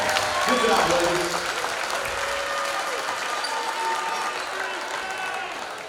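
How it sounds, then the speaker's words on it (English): A crowd applauds steadily for the players at a girls high school basketball game between Arab and Albertville, with dense, loud clapping that swells early and then holds at a slightly lower level throughout. "let's give our players from both teams a round of applause"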